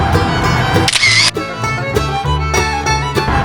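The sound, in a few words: camera taking a photo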